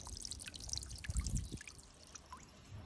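A small solar-powered pump fountain in a garden pond splashes water in a soft, steady trickle and patter, with a slightly fuller burst in the middle, faint and continuous with no voices.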